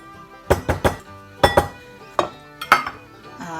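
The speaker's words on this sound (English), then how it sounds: "Now I'm going to mix my dressing." Mayonnaise dressing is mixed in a bowl for broccoli salad: a utensil knocks and clinks against the bowl in short, irregular bursts, close and crisp, with brief quiet gaps between strokes.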